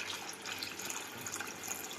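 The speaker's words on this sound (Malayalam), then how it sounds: "വെള്ളം കൂടെ ഒഴിക്കട്ടെ." Hot water is poured over fish to loosen the scales, making a continuous splashing, trickling stream of liquid, fairly close and steady, with no talk.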